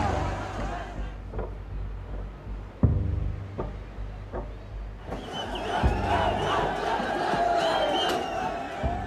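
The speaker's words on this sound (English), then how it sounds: "Crowds breach the Supreme Court" A large crowd of protesters storming government buildings, including the Supreme Court and the Singhdarbar ministry compound in Nepal, with a mass of shouting voices, scattered sharp bangs and a louder swelling roar of yelling.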